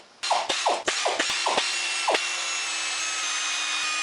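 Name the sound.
loosening cylinder head nuts with ratchet, Polaris 400 engine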